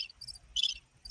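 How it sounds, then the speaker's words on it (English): Crickets chirping in short, bright bursts, a few quiet pulses spaced irregularly over a faint low background, with no one talking. "there go the crickets"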